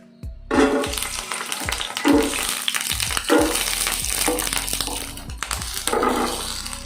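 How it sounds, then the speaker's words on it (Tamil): Turkey berries (sundakkai) sauté in sesame oil in a pan, sizzling and crackling continuously and up close, while a spoon stirs them with several dull scraping knocks at the start. "சுண்டக்காய் ஊறுகாய், அதுக்கு முதல்ல சுண்டக்காவை நல்லா வதக்கிக்கணும்"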